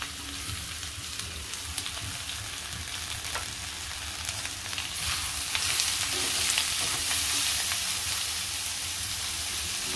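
Tomatoes sizzle in a pan with ginger and garlic for mushroom masala, a steady close frying hiss that thickens as they are stirred in, with no talking.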